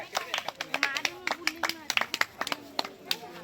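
Scattered hands clap at a primary school annual function as a guest is invited onto the stage, giving a sparse, uneven patter of claps under an announcer's amplified voice.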